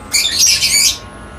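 A racing pigeon squawks once in a brief, loud, close burst with no talk over it.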